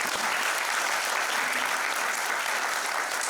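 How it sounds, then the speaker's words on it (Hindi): Enthusiastic audience applause at a Yoga Day celebration event, dense continuous clapping from a large crowd, loud and unbroken from start to finish. "एक जोरदार ताली उनके लिए"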